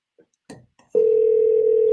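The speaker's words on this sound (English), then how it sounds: "I got to call the other phone." A telephone dial tone sounds steadily and loudly for about a second after a few brief soft knocks and rustles, as a call is placed to another phone.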